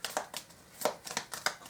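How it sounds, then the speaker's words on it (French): Tarot and oracle love cards are shuffled in several quick, crisp riffling bursts, close and fairly quiet, with no talk. "on va battre les cartes ensemble"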